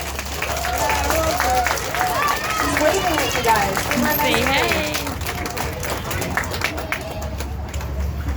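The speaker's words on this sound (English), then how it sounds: "Give Rosie another big round of applause." An audience at a live animal show claps steadily for Rosie the elephant, a sustained wash of applause running through most of the moment while a presenter talks over it before the clapping thins out.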